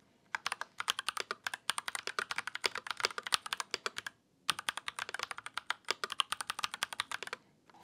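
Fast, crisp clacking of keys on an RK61 Plus mechanical gaming keyboard with linear switches, steady bursts of typing with a brief pause midway, close and clear.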